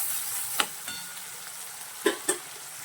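Tomato sautéing in a pan with onion, a soft steady sizzle broken by a few sharp clinks as a spoon stirs against the metal.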